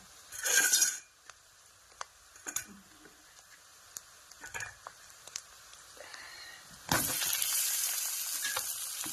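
Potatoes frying in a pan for sabudana khichdi, a soft sizzle with light utensil clicks and stirring taps, then a louder burst of sizzling near the end.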